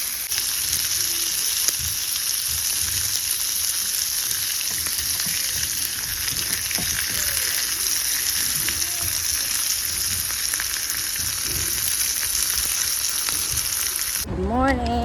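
Hotdogs fry in a pan for breakfast, giving a continuous close, loud sizzle and crackle that runs unbroken for about fourteen seconds before stopping abruptly.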